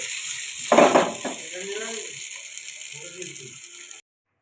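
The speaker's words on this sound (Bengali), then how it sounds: "যা এক্সট্রা তেল ছিল ওটার মধ্যে আমি আলুগুলো একটু ভেজে নিচ্ছি" Potatoes fry in leftover oil in a pan, a steady bright sizzle with a louder clattering burst near the start that settles into continuous crackling hiss before cutting off.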